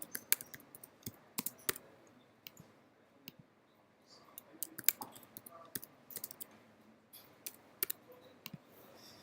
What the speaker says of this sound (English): just click on the block and start typing